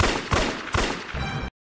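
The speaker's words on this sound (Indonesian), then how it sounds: "dengar suara tembakan 3 kali" Gunshots from a film about a naval commander's murder case: three loud, close shots in quick succession, each a sharp crack with a short echoing tail, before an abrupt cut to silence.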